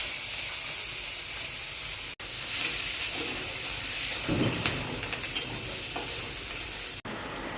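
Onions frying in hot oil with bay leaf, panch phoron and dried red chillies, a steady loud sizzle broken by stirring scrapes, with two sudden brief dropouts in the hiss.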